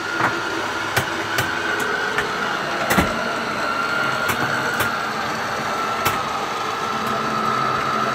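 An RV slide-out room's electric motor runs in a steady mechanical hum, punctuated by sharp ticks and knocks as the room moves, fairly close and with no talk.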